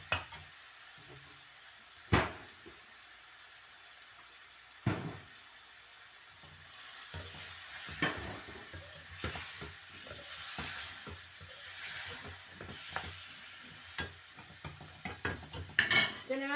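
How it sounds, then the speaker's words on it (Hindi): Tomato chicken karahi frying in a pan, a quiet sizzle that grows busier over time, broken by sharp clanks and scrapes of a spoon against the metal, with no voices. "अब मैं इनको थोड़ा सा भून के ये टमाटरों वाली कढ़ाई चिकन है"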